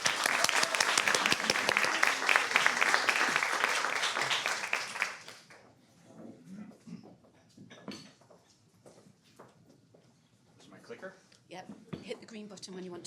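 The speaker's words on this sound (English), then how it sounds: "give all a big round of applause for Adam" An audience at a leadership talk bursts into loud, dense applause for about five seconds. It then drops off sharply into a few scattered claps, with people talking afterward.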